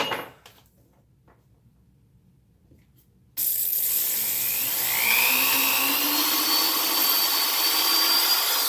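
After a few quiet seconds, a drill suddenly starts and runs continuously at a high whine, its pitch shifting slightly as it bores into Lucite acrylic plastic.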